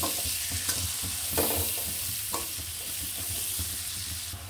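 Onion with slit green chilies fries in a pan, a soft, steady sizzle punctuated by repeated clattering stirs and scrapes of a spatula against the metal.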